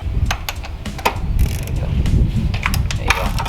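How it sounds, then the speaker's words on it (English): A ratchet with a 15/16 socket loosens the oil filter cap on a 2015 Chevy Cruze, giving close, busy mechanical clicking and clattering over a steady low hum, with no talk. "we're gonna get the 15-16 socket, put it in there, and get the ratchet in there, and just take it out"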